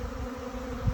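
A bee swarm moves into an empty hive, heard as a close, steady buzzing hum in a brief burst that thickens into a low thump at the end.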